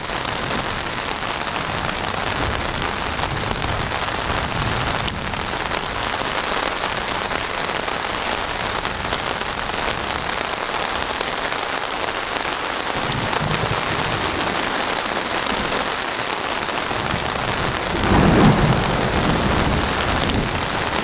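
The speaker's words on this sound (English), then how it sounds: "I've been hearing thunder for the last 10 minutes or so." Heavy rain patters steadily on a Poler four-person instant pop-up tent that is not waterproof, for a long stretch, with low thunder rumbling faintly in the distance and a brief louder rumble near the end.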